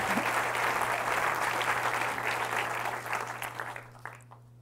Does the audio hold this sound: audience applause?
yes